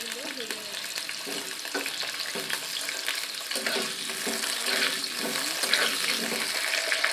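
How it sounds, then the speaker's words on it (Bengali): Potatoes fry in hot oil in a wok, giving a steady close sizzle with crackling and occasional scraping stirs from a spatula, and no voice over it. "এবার কড়াই আমরা আলুগুলো ভেজে নেব।"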